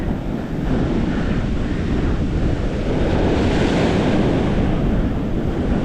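Sea waves wash over a jetty at Stenhouse Bay, a loud, continuous rushing surge of water with heavy wind buffeting the microphone throughout, no voices.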